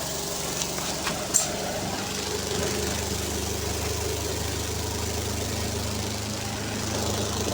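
A clothes dryer machine loaded with wet clothes runs with a steady, low mechanical hum and faint vibration, a few soft knocks near the start, continuing evenly at moderate volume.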